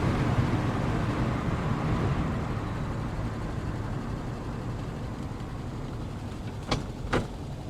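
A 1968 VW Type 3 with dual 34 carburetors idles in a steady low rumble, a broad even drone with a couple of brief clicks near the end.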